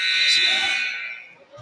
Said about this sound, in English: buzzer as the third quarter just ended